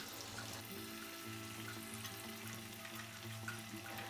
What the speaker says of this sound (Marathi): आता तेल इथे व्यवस्थित तापलेलं आहे मी आता जी आपण टिक्की बनवून घेतली आहे ती टिक्की व्यवस्थित अशी तळून घेते